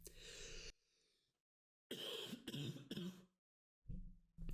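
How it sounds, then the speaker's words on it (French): Several short, harsh coughs from a single person come in two separate bursts with a pause between them, close to the mic and indoors, and no speech is heard. "Je viens de tousser"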